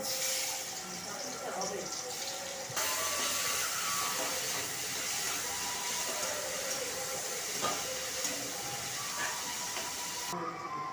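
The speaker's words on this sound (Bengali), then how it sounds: "এখন কড়াইয়ের মধ্যে তেল দিয়ে দেওয়া হয়েছে। এখন এর মধ্যে চিংড়ি মাছগুলো দিয়ে দেওয়া হবে।" Prawns fry in hot oil in a wok, giving a loud, continuous broadband hiss and sizzle that swells when they go in and crackles on steadily, with a voice talking over it.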